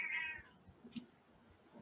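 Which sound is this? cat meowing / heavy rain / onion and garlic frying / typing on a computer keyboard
cat meowing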